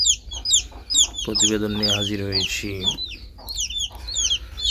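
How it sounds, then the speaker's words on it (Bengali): Young native (deshi) chickens on a farm cheep and cluck busily in rapid high chirps, joined by a louder hen cluck, while someone speaks over them. "যে মুরগিগুলো দেখতেছেন দেশি মুরগির বাচ্চা"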